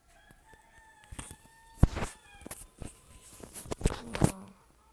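A rooster crows faintly from outside an open window, a thin drawn-out call amid scattered thumps and knocks close by, with no talking.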